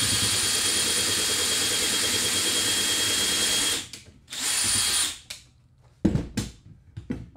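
Power drill driving pocket hole screws while building a grill cart frame: a long continuous high whine, then short bursts with pauses and a final few quick zips.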